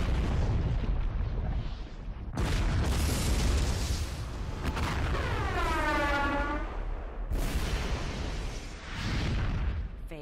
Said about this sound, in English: set off a massive explosion with the force of 40 atomic bombs